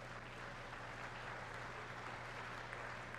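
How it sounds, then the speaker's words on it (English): Applause from an audience at a speech, playing back at a moderate, steady level with a faint low hum underneath and no talking. "So he gets applause."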